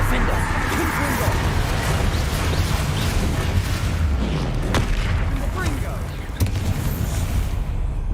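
A Confringo fire spell bursts in Hogwarts Legacy amid a troll fight: deep booming blasts and rumbling game effects sound continuously, with sharp impacts near the end, under a character's spoken spell incantations.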